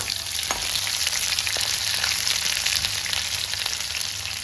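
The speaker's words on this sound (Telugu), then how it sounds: "తాలింపు వేగిందండి. ఒక ఆనియన్ ఇలా సన్నగా కట్ చేసుకొని దీంట్లో వేసేసుకుందాం." Thinly sliced onion sizzles steadily in hot oil with tempering seeds for a brinjal chutney, a constant close frying hiss with a few faint clicks of stirring and no talk.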